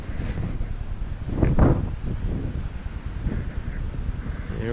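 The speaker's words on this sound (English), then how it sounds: "A little scary standing up here with the wind going" Wind gusting across a van roof while standing on a newly installed roof deck of a Flatline Van Company roof rack, a loud rumbling buffeting on the microphone with one stronger gust midway, no talk.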